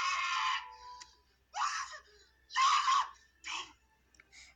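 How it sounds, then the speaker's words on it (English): Screaming from a Home Alone scene, four loud separate shrieks in short bursts with brief pauses between, close and harsh over a quiet low hum. "Warning, scream alert!"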